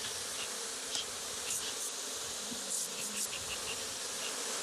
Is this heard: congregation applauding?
no